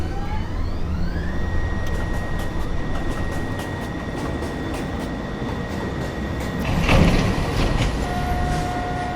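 An automated NYC Subway R62A train on the 1 line, with a steady loud rumble of wheels and motors, rising tonal whines, rhythmic clicks over the rail joints and a brief louder burst near the end.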